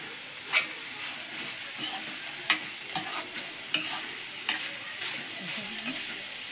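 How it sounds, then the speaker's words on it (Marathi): Jaggery and grated coconut roast in a kadhai for a modak filling, with a soft sizzle under intermittent scraping stirs from a spatula, and quiet talk in the background. "आपण यानं गूळ वितळापर्यंत कढईत भाजून घेऊचा हा"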